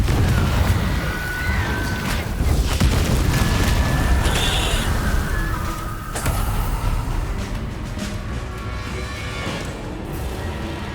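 A Confringo explosion spell goes off in Hogwarts Legacy, a dense, loud rumble of magical blasts and booming impacts that lasts throughout, with bright crackling bursts layered on top and no speech.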